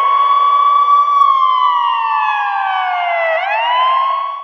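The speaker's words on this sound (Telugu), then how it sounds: "అంబులెన్స్ సౌండ్ వినబడి దగ్గరకు వస్తుందంటే పోలీసులు ఏం చేస్తారు?" An ambulance siren wails loudly and steadily, its pitch sliding gradually downward as if passing, then dipping sharply near the end before recovering, with no talk over it.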